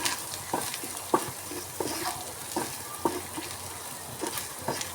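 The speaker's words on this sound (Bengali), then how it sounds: "মশলাটাকে পেঁয়াজের সঙ্গে ভালো করে ভেজে নেব।" Turmeric, chilli and cumin powders frying with onions and ginger-garlic paste, a continuous close sizzle punctuated by regular spoon scrapes against the pan.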